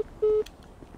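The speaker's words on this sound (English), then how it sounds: "Does that mean these lines are busy?" A single short electronic phone tone from a mobile phone in GTA 5 sounds once, steady and clear, then cuts off, leaving quiet background noise.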